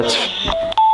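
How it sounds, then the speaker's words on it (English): A few short electronic beeps from a Sena 20S motorcycle Bluetooth headset signalling full volume, the last one a steady held tone, over a faint background hum. "that's full volume when it beeps like that"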